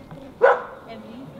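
A single sharp dog bark indoors at home, close and loud, rising briefly above quiet room sound.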